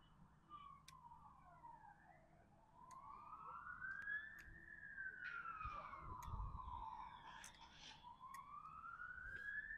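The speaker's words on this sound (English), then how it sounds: "These are everywhere today. I hear the sirens." Emergency vehicle sirens wail on a road by the Anfield Road stand expansion in Liverpool, a steady rising and falling tone that sweeps slowly for the full stretch at moderate distance over low traffic rumble.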